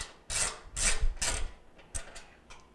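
Screwdriver turning out a control panel mounting screw on a Jenn-Air stove, a few close rasping, ratcheting squeaks in short bursts followed by fainter scrapes.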